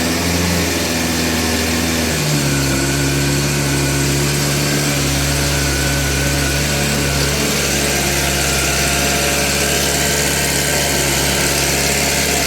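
Suzuki Bandit 600 S motorcycle engine, liquid-cooled, idling close by at a steady even rhythm after a slight rev change early on, loud and continuous with no talk.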